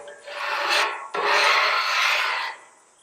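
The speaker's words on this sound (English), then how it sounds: "I'm just giving it a light scrape to get all the stuff off the griddle" A metal scraper pushes leftovers across a cooking griddle in two close, rasping strokes with a brief pause between them, loud and alone.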